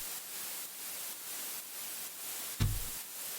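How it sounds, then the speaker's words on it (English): Synthesized white noise from Ableton's Operator in a house track, a steady hiss pulsing rhythmically in level, with a brief low thump near the end. "I usually use Operator to make my white noise"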